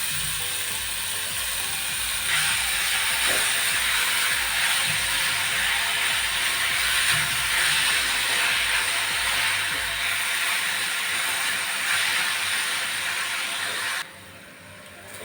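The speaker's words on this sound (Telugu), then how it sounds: "సొరకాయ తురుమును గీలో ఒక 5 మినిట్స్ వేయించుకోవాలండి." Grated bottle gourd frying in ghee for a sweet village-style payasam, giving a steady, even hiss and crackle that runs unbroken for most of the clip, then drops off abruptly near the end.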